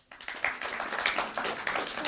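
Audience applause at a karaoke bar history talk, a dense, lively patter of many hands clapping quickly and evenly, fairly close and sustained.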